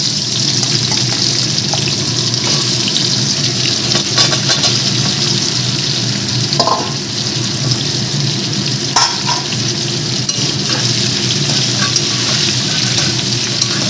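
Raw jackfruit pieces frying and sizzling in a pan for vegetable biryani, a steady close hiss with occasional stirring scrapes throughout, no talk.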